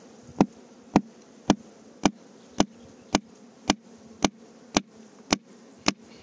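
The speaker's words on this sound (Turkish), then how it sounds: "Bir de çekiç var yanımda. Bir bakayım çekiçle vurunca ne yapacaklar." Hammer taps on a wooden beehive land in a steady series of about eleven sharp knocks roughly half a second apart, while a continuous low buzz of honeybees hums beneath them.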